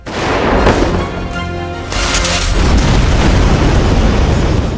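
Explosives planted on a bridge detonate in a film scene: a loud, deep boom rumbles out, then a second burst hits and a heavy roaring wash lingers to the end.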